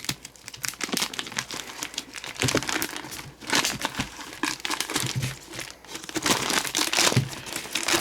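Plastic poly bag wrapped around packaged 5-inch firework canister shells being handled and opened, loud close crinkling and crumpling in irregular bursts throughout.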